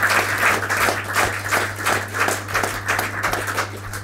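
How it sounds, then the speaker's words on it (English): Applause for a speaker at a community evening meeting, a lively crowd clapping in rhythmic, pulsing waves over a steady low electrical hum, moderately loud and sustained. "Let's give our great brother a big round of applause."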